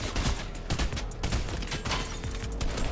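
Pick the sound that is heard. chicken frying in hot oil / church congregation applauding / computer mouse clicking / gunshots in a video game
gunshots in a video game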